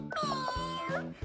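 A single high, rising-then-falling meow lasting about a second, heard during Barbie dollhouse play involving naughty cats, loud and close with no other sound around it.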